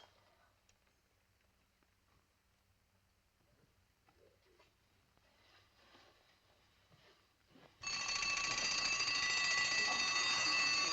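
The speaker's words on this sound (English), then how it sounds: "I'll set the alarm." An alarm clock in a 1941 film scene bursts into a loud, continuous metallic bell ring after a long, quiet stretch of faint room noise, ringing steadily to the end.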